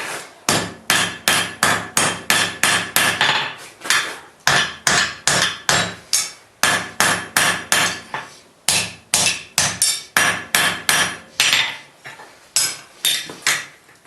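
Hammer blows ring on an anvil while bolt jaw tongs are forged, landing in fast, loud, evenly spaced bursts of metallic strikes with short pauses between runs, close and alone with no talk.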